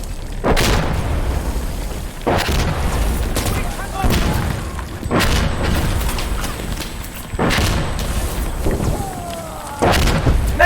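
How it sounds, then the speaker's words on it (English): Heavy explosions boom in the video game Insurgency: Sandstorm, four or five deep blasts arriving every couple of seconds with rumbling tails between them, loud and close. "What's these explosions?"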